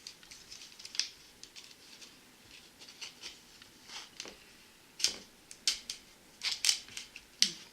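A sharp blade snips and clicks through the thin banded ring on a plastic bottle neck, a series of quiet irregular cuts and ticks that grow sharper and more frequent toward the end.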